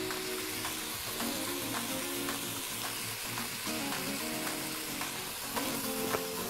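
Meat with onion and garlic sizzles in a pan, a constant close crackle with occasional soft stirring scrapes and no voices.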